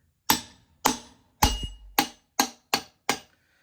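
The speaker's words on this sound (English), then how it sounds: "Got a large socket in here now, we'll see. I think I got it to move, maybe." A large socket wrench works on a seized Volvo B18 redblock engine left 40 years in a grain silo, giving seven sharp, close metallic clacks at a steady, even pace with brief silence between each.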